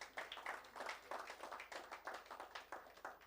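Presentation participants give a faint, distant round of applause, a soft patter of many hands clapping in a steady rhythm for a few seconds, with no talking over it.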